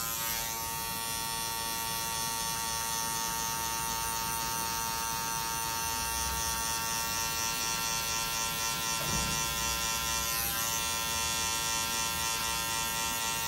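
Electric hair clippers buzz continuously and close up while cutting a mid fade haircut, with a steady high whine throughout and slight shifts in tone as the clipper moves through the hair.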